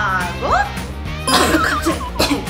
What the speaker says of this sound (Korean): 갑자기 기침이 나와가지고.